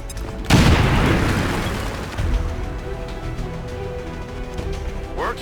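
A grenade goes off in XCOM 2 with one loud, close boom that rolls and decays over a few seconds, leaving rumbling debris and lighter crackles behind.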